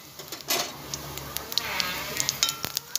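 Dry red chillies, bay leaf and cumin sizzle in hot oil in a kadai, a crackling spit of frying close by with sharp pops and brief spatula scrapes.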